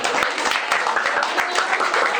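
Audience applause at a highland (góralski) folk band's dance lesson for children and youth, steady dense clapping throughout, close and loud, with no talk.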